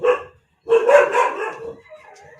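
A dog barks sharply once, then again in a louder, longer burst, ending in a whiny yip; close by, with no talking.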